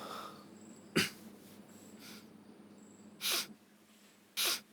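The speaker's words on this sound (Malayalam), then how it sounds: "അത് പാമ്പും ചേമ്പും ഒന്നുമല്ല, അമ്മച്ചി മൂക്ക് ചീറ്റുന്ന" An older woman blows her nose three times, each a short sharp snorting burst, faint and some distance off in a quiet room.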